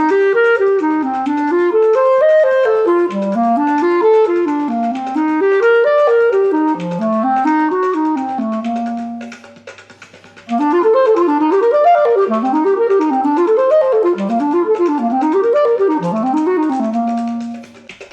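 Jazz line over a diatonic cycle-of-fifths progression, played on a melodic instrument with a flat nine over the dominant in a gypsy jazz, bebop style. Rising and falling arpeggiated phrases run continuously, break briefly near the middle, then resume to the end with no talk.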